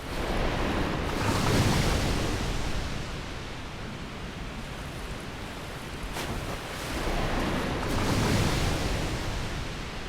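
Character wading through water in Dark Souls, a broad rushing wash of splashing that swells around the start and again near the end, steady and close with no talk.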